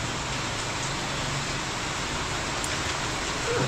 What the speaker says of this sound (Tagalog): At sumabay din ang ulan na yan.